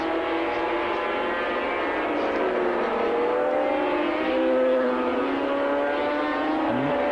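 350cc Yamaha racing motorcycles passing on a race track, several high-pitched two-stroke engines wailing loudly together with rising and falling pitch as they sweep past, a continuous dense roar.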